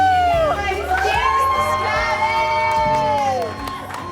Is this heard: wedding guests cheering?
yes